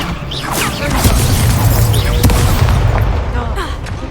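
The Levioso spell is cast during a Hogwarts Legacy battle: a loud magical burst with booming, crashing impacts sits over constant combat noise, and character voices are heard.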